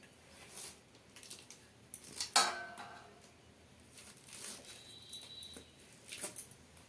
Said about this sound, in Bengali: এরপর এই তালের খোসাগুলো আমি ছাড়িয়ে নেব।